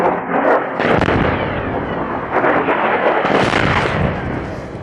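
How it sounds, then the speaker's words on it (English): Heavy, roaring blasts from airstrikes on the runway of Sana'a International Airport, with loud broadband booms rolling into one another and sustained rumble across the whole stretch, no speech over it. "aggressive airstrikes on Sana'a International Airport are ongoing."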